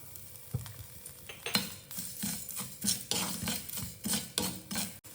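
Salt and curry leaves being roasted in a pan with dried chilies for idli podi, a soft sizzle under repeated scraping and stirring strokes of a spoon against the pan, close and steady.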